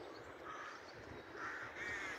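Crows caw near their nest at Hillend, Dunfermline, a few harsh calls at moderate distance over a soft steady outdoor background.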